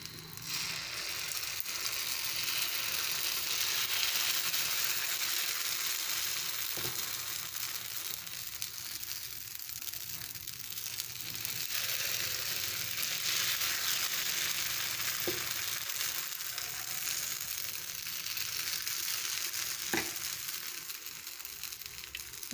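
Paniyaram batter made from dosa batter fries in the cups of a paniyaram pan, giving a steady, even sizzle that runs close and continuous throughout with a few faint clicks.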